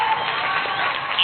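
Audience applause at a 30th anniversary show, a dense steady wash of clapping and crowd noise lasting about a second, fairly loud and continuous.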